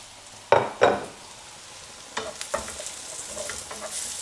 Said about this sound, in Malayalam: ഏകദേശം സവോള മൂത്ത് ബ്രൗൺ കളർ ആകാറായിട്ടുണ്ട്